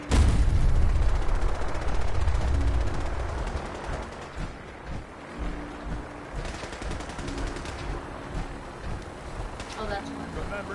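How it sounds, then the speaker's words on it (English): Automatic gunfire and bursts of explosions from a Fallout 4 firefight with laser Gatling guns, loud and dense at first then settling into scattered shots, with a voice talking over the action. "Why are there random explosions?"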